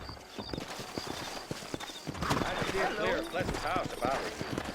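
Steady clip-clop of several horses' hooves on hard ground in the video game Red Dead Redemption, with people talking over it and a horse briefly whinnying.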